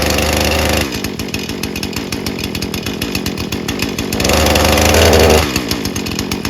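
A Husqvarna 435 40cc gas chainsaw with its chain brake engaged runs loud and close, idling with a rapid rhythmic putter. The engine revs up twice, once at the start and again near the end.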